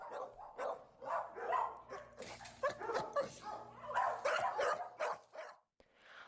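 A dog at the front of a kennel barks persistently, with repeated close, loud barks and some higher yips running through the whole stretch and only brief gaps.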